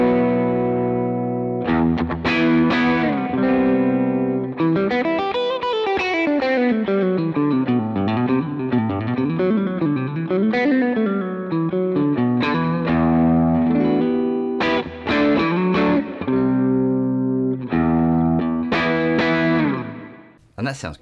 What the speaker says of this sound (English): So there's my rhythm overdrive tone.